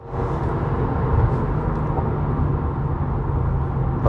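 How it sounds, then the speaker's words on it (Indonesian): A 2023 Subaru WRX tS with a CVT and Sport Plus mode pulls at full throttle, its engine a loud, steady, unbroken roar heard from inside the car. "Kita gas penuh."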